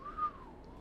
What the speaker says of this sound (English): Castor whistles.